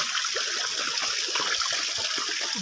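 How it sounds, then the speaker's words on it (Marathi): Steady running water trickling down a mountainside in the Sahyadri hills, splashing continuously, fairly close, with no voices over it. "बारा महिने टिप टिप पाणी असतं"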